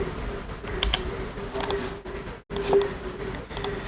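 Quick key presses on a computer keyboard, a cluster of sharp clicks and taps in an uneven rhythm, close and fairly loud against a faint steady background hum.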